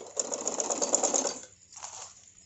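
A sewing machine runs a long straight seam attaching a newspaper-patterned neck design to fabric, a steady rapid mechanical chatter for over a second, then a pause and a brief second burst.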